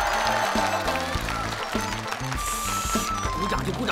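An audience claps loudly and rapidly at a contest result in a Chinese fantasy drama, the applause mixed with shouts and cheering, dense and close throughout.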